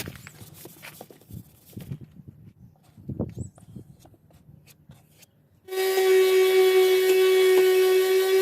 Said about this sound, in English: I'll hand sand all the little nooks and crannies